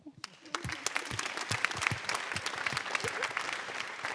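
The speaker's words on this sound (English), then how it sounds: "One last applause, Fiona." An audience at a hackathon pitch event claps for a presenter, a lively patter of individual handclaps building quickly and continuing unevenly, moderately close and without speech.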